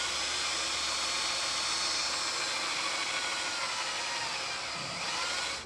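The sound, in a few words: power drill drilling holes in a vehicle frame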